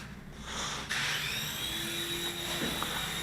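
A Silverlit Metal Copter toy helicopter runs at full throttle, its rotor and small motor giving a steady, high, whirring whine that rises and stays loud and close for a few seconds.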